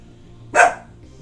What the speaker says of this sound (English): My dog is trying to protect.